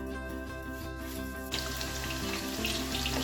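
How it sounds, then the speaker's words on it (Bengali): Tea dishes and cups are washed under a running tap, a steady rushing stream with soft clinks of crockery, louder and brighter in the second half as the flow strengthens. "চায়ের বাসন তো সব মেজেই নিই।"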